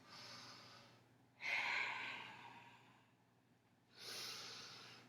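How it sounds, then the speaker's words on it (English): Two slow, audible exhales during a yoga flow, each a soft breathy rush of air with quiet pauses between them, close to the microphone and without speech. "So you're hearing, hopefully, the exhales."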